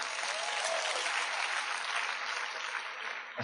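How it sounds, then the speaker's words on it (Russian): Steady, dense applause from a church congregation, a continuous wash of clapping at moderate level that holds evenly throughout and stops abruptly at the end. "Слава Господу, аплодисменты Иисус."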